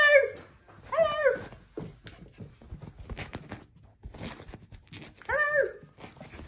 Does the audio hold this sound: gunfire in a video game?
no